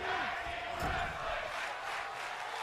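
Crowd at a wrestling event cheering and shouting in a big hall, a broad roar swelling under a commentator's voice.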